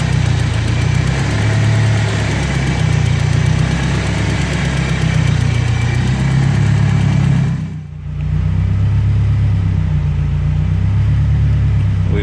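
BMW E30 with a turbocharged M42 four-cylinder idling while warming up after a cooling system refresh: a steady, loud, close engine drone with a brief dip near the end, no talking.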